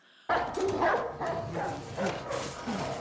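Several dogs barking in a Game of Thrones episode, a pack of close, overlapping barks and yelps erupting suddenly and continuing in uneven bursts.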